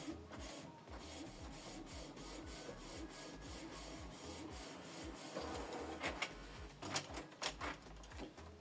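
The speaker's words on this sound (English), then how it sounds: "Now he picked up the paper from the rear tray." A Canon TS8750 inkjet printer whirs and clicks as it pulls paper from the rear tray while copying, steady mechanical chatter nearby with a few sharper clacks near the end.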